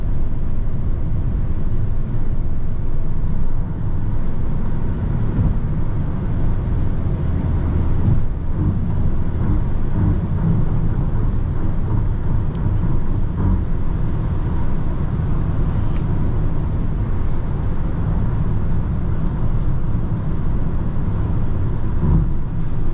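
Steady, loud cabin drone inside a 2024 Peugeot Rifter GT cruising on a highway at about 125 km/h and 2100 rpm: continuous low road and wind roar with no talking, even throughout.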